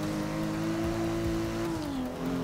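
A turbocharged car engine drones at a steady, dull pitch in Forza Motorsport 6, holding a constant loud tone with a slight dip near the end.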